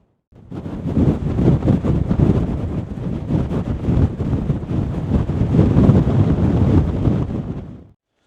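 Strong wind buffets the microphone on the exposed coast at Spurn Point, a loud continuous roaring gust with surging peaks that starts and cuts off abruptly, with no voices.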